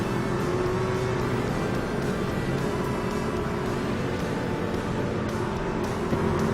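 Racing trucks rolling through turns three and four under caution, engines droning steadily at a distance with a continuous broadband roar and no distinct passes.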